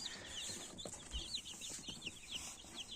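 Chicks clucking softly with repeated short chirping calls over a low, steady background, fairly quiet and close.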